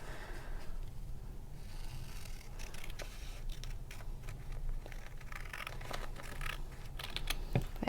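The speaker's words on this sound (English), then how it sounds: "Now I'm just going to trim the top just to make it a little bit straighter." Scissors trim the top edge of a paper pop-up card in soft, quiet snips and crisp rustles, close and faint with no talking.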